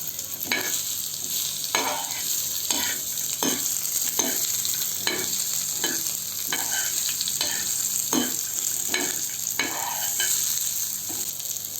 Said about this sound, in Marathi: आता आपण त्याच्यामध्ये कैरी घालून घेऊ ही पण एक ते दोन मिनटं परतवून घ्या